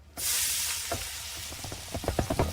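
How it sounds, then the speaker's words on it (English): Onions dropped into a pan of hot olive oil and butter give an abrupt loud sizzle that holds steady, with light crackles and stirring clicks building toward the end, close and with no talk. "Now add your onion"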